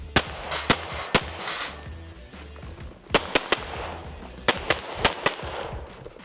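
Sharp, loud cracks of shotgun and pistol fire on a 3-gun match stage, about a dozen shots in irregular clusters with short quick doubles and pauses, heard from nearby outdoors.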